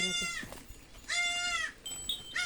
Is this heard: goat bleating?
yes